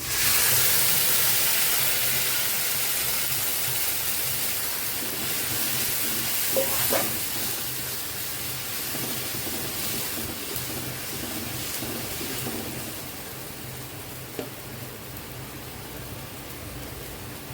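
A paste of onion, chili and ginger fries in a pan for a soybean curry, giving a steady broad hiss and sizzle that starts loud, settles slightly and carries a few soft clicks.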